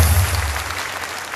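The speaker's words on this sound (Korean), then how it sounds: "박수 한번 보내주십시오." Applause from a rally audience in a convention hall, a brief dense burst of many hands clapping over a low hum that fades out early.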